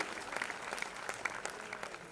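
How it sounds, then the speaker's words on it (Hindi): Brief, moderate applause from an audience at a music video launch event, scattered claps rising and falling in a short burst of a couple of seconds. "तालियां बजाइए एक बार जोरदार उनके लिए, ताकि वो इस मंच पर आ जाएं।"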